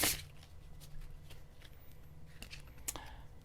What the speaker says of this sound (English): stop playing around with the cards and just shuffle it